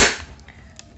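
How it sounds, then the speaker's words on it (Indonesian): A single sharp shot from a handmade PVC airsoft shotgun cracks at the start, fired into a chronograph, followed by a quick decay and faint clicks. "Kemudian kita kokang unitnya dan kita tembakin unitnya ke krono ini."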